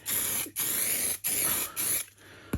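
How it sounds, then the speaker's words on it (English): Lacquer is sprayed onto a TT120 model railway layout in three close, steady hissing bursts separated by short pauses, ending with a brief final puff. "And I'm going to spray a nice coat of lacquer in the middle there."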